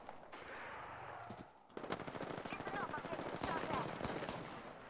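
Rapid automatic gunfire rattles steadily in Apex Legends, a dense stream of close shots after a brief lull, with bits of game effects mixed in; a player's voice is faintly present underneath.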